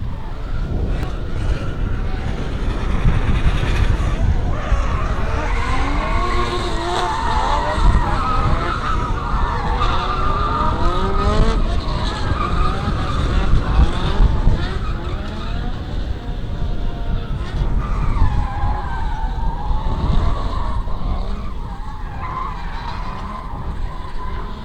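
Drift cars at a Meremere competition howl past with sustained engine roar and long squealing tire slides, loud and continuous throughout.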